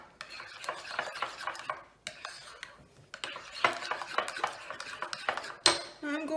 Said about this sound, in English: Now I'm going to mix this up together